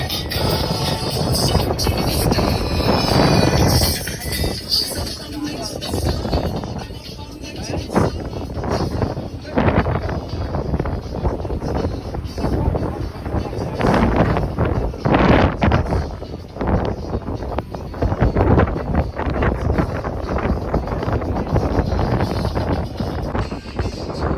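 A semi-submarine boat cruising on the Red Sea, with a constant rumbling engine and rushing water mixed with wind buffeting the microphone, steady throughout while people talk over it.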